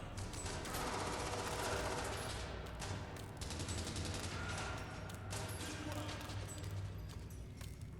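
Dense, continuous gunfire from the video game Fallout: London, rapid shots and bursts overlapping throughout at steady loudness, with a voice talking over the battle.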